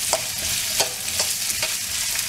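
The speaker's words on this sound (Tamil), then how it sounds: "இஞ்சி பூண்டு நல்லா வதங்கின உடனே இந்த நறுக்கி வச்சிருக்க வெங்காயம்," Chopped onions with ginger and garlic sautéing in a pan, a loud continuous sizzle broken by regular scraping strokes of a spoon, close and without speech.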